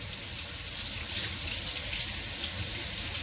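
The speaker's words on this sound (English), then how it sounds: "You just give them a good rinse." Shrimp being rinsed under a kitchen tap, a constant loud rush of running water splashing into the sink for the whole stretch, with no talking.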